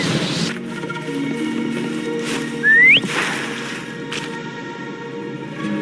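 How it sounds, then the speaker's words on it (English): A game character in Wuthering Waves gives a single short rising whistle to call a creature, loud and clear over steady game music and ambience, lasting under a second. "Try whistling."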